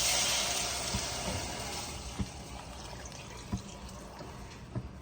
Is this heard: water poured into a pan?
yes